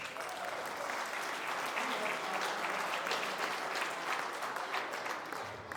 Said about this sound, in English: Another huge round of applause, please, for Johnny Fuchs.